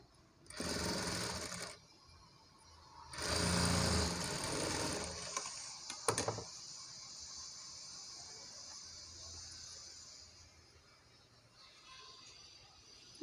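A sewing machine stitching a saree into a long frock whirs in two close, rapid bursts, each lasting a second or two, separated and followed by quiet.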